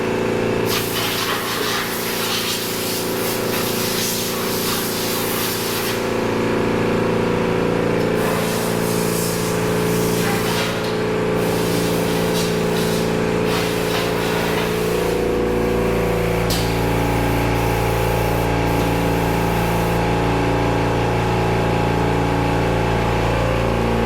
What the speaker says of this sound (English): he'll spray into all the little nooks and crannies of the hood